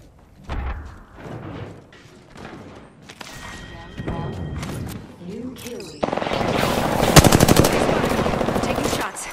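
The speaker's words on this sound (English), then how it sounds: "Taking shots. I am taking fire, friends." Gunfire in the video game Apex Legends, starting with scattered single shots and thuds, then a dense, loud burst of rapid automatic fire in the last few seconds, close and continuous.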